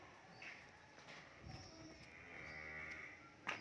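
A cow moos in a long, drawn-out call during a cattle delivery in Dong Thap, Vietnam, with shuffling hooves and bumps around it outdoors, fairly close and moderately loud.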